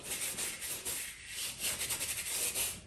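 Soft, rhythmic rubbing strokes of a paintbrush loaded with thinned royal blue oil paint spreading across a whole canvas, faint and close.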